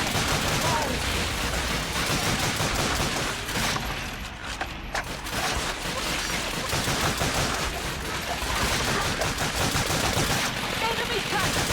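Rapid bursts of automatic gunfire crackle almost without pause in the Call of Duty: Finest Hour Eastern Campaign on hard mode, with dense battle noise and someone talking over the shooting.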